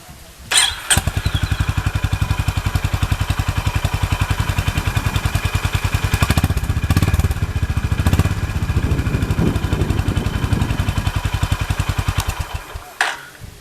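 A Honda H'ness CB350 motorcycle fires up and runs nearby with a steady, loud, rhythmic thump, the beat lifting briefly midway before it shuts off at the end.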